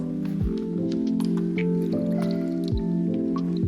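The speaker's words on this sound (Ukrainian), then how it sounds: "злиться вода" Water pouring from a robotic pet feeder's dispenser, a close trickling and dripping flow over a steady motor hum, with no voices.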